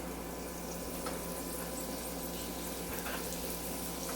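A steady, unbroken sizzling hiss of mustard seeds, curry leaves, green chili, onions and carrots frying in a hot pan, close by, with no talking.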